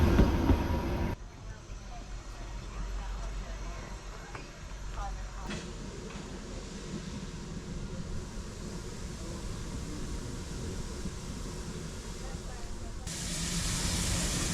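Ex-South African Railways steam locomotive NG130 passes on the Welsh Highland Railway, heard as a steady close rumble and hiss of rolling stock that holds without a break.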